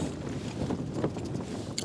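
Wind rumbles and buffets close to the microphone in a steady low roar at a wild campsite with a Hilleberg tent, with no one speaking.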